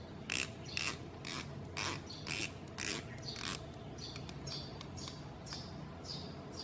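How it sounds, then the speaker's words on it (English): Rotating bezel on a Richard Legrand Odyssea Mark III dive watch turned in a series of crisp, evenly spaced ratcheting clicks, close and fairly quiet, in short bursts with brief pauses. "Let's check quick bezel action. Smooth, easy to operate,"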